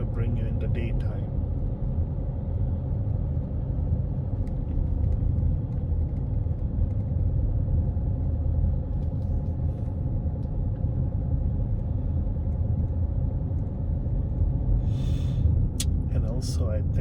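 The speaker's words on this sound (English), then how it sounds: "This car is a bit too cumbersome to go around the streets." A car drives at night along roads toward Kuala Kubu Bharu, Malaysia. The cabin is filled with a steady, low engine-and-road rumble that holds evenly throughout, and a voice occasionally speaks over it.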